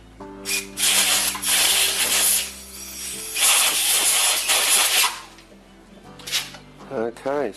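Scraping, rubbing cuts from a metal lathe during a first machining operation on a ram part for a New Bright C550 conversion, coming in loud sustained bursts with brief pauses, over a steady low motor hum.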